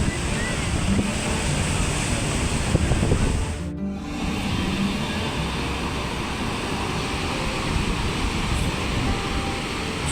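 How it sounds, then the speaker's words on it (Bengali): Morning sea waves roar without pause on Puri beach, a dense, continuous wash of surf mixed with wind buffeting the microphone, briefly dipping near the middle before surging steadily again. "সকালবেলা সমুদ্রের অবিশ্রান্ত গর্জন"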